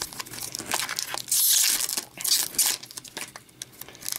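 Foil wrapper of a 2015-16 Upper Deck Series 2 hockey card pack being torn open and crinkled by hand, close-up crackling and rips in several quick bursts, with no talk.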